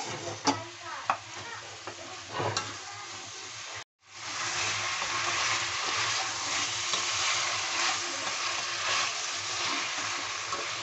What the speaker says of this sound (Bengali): মশলার সঙ্গে কুমড়োগুলোকে ভালোভাবে নেড়ে নিতে হবে।